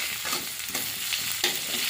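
Chopped onion sizzles in hot oil in a wok with panch phoron, a loud steady frying hiss broken by a few scraping stirs, close and without talk.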